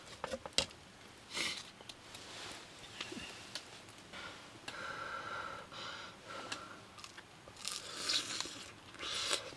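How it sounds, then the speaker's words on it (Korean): Crispy fried tempura eaten at a winter solo campsite in snowy mountains, with several sharp crunchy bites and chewing up close, mixed with breathing and small mouth noises and no talk. "튀김도 완전 바삭바삭하게 잘 됐어요."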